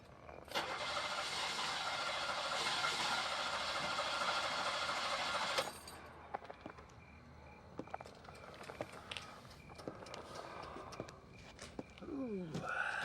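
A car engine cranks over and over without catching, a loud steady grinding for several seconds that cuts off abruptly, followed by quieter clicks and rustling, with a faint voice near the end.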